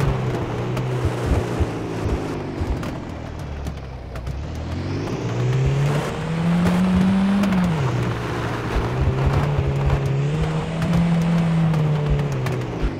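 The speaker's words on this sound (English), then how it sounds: "people were saying the driving sound in this game is like, you know, 2000s racing game sound" Car engine in the Beware video game, a steady droning hum that rises and falls with gear-like pitch sweeps over continuous road and wind noise, no talk.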